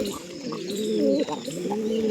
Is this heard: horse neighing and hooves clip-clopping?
no